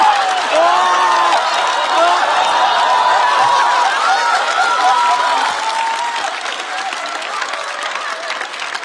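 Loud, sustained audience applause at a comedy roast show, dense and even, with cheering voices and chuckles rising over the clapping before it slowly fades.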